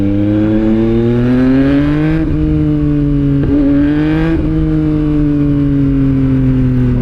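A Yamaha MT-09 motorcycle engine revving hard during a ride, loud and close, its pitch climbing and dropping through several gear shifts in a continuous roar.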